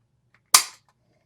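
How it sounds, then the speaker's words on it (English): A single sharp click from a Colt 1911 pistol trigger being pulled and breaking on a trigger pull gauge, crisp and close in an otherwise quiet room. "And now let's get the trigger pull on it."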